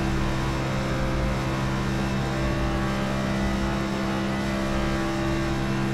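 A NASCAR NextGen race car in iRacing on the Monza oval holds a loud, steady engine roar at constant high revs with strong, unchanging low tones, close and continuous, with no talking.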